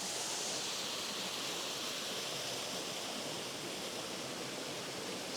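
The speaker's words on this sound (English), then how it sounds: "Quite like this flow of the water here." Steady rushing roar of a waterfall pouring over rocks, a dense broadband wash of flowing water that stays loud and unbroken throughout, close by with no voices.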